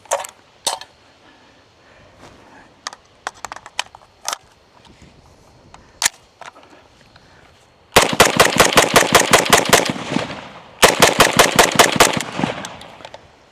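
A Zastava M92 rifle fires GROM ammunition in two rapid strings of loud, close shots, preceded by scattered clicks and handling noises.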